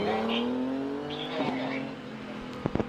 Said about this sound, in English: Paul Crute heading towards and through the S's on the line